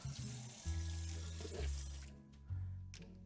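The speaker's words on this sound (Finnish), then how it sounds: "Niin mä otan ne pallot pois sieltä ja sitten ihan täällä veden alla" Running tap water streams over frozen pizza dough balls under a kitchen faucet, a close, steady flow that shifts in tone as the balls move beneath it, then briefly cuts out before resuming.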